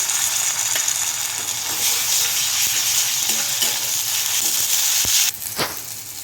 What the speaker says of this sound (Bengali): পেঁয়াজগুলো প্রায় ভাজা হয়ে এসেছে। এর মধ্যে এবার আমি আদা রসুন বাটা দিয়ে দেবো।